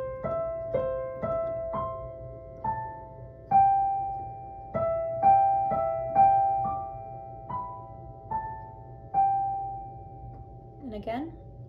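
Piano plays the melody of a song slowly, with single notes struck one at a time at a relaxed, even pace, each ringing and decaying; a brief vocal sound comes at the very end.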